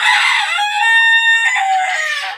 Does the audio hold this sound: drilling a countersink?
no